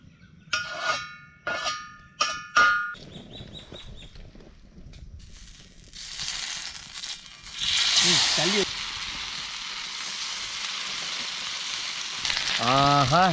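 Vira and kuravai fish frying in a pan, a steady hissing sizzle that swells and holds through the latter half, preceded by some clatter and brief sounds.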